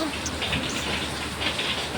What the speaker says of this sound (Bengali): অনেক বৃষ্টি হচ্ছে, তাই না?